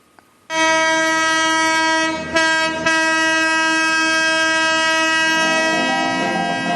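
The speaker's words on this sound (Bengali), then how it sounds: "চা বাগান জঙ্গলের বুকে কু ছিকছিক" A Darjeeling Himalayan Railway toy train running between Siliguri Junction and Gayabari near Kurseong, through tea gardens and forest, sounds a loud, sustained horn from close by that starts abruptly and holds for several seconds over the rumble of the running train.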